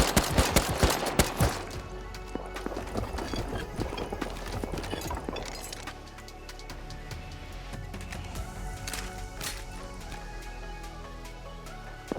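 Horse hooves clip-clopping at a quick riding pace in the video game Rust, a steady rhythmic patter that is busy and loud at first, then lighter and more even, with no talking.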